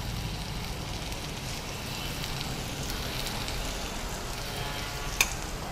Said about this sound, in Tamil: தக்காளி ஆட் பண்ணி இதை கொஞ்சம் நல்லா வதக்குங்க